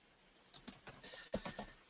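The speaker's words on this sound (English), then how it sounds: "I can simply start typing a question into the box" Quick, light keystrokes on a computer keyboard as a question is typed, about a dozen close, crisp taps in an uneven rhythm with no talk.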